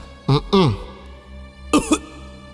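A man coughs in short harsh bursts, two close together and then two more a moment later, loud and near.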